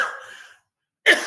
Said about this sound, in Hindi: वो मैं खाँस रहा था